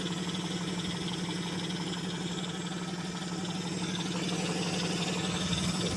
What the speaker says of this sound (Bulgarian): Доста гладко и балансирано работи лично според мен този мотор.